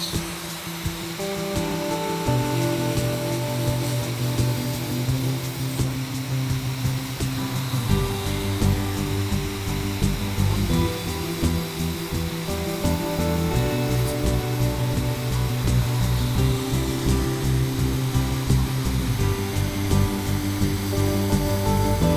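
A vacuum cleaner runs continuously after being switched on, a loud, close, steady motor whine with broad airflow hiss and slight shifts in pitch throughout, no talking.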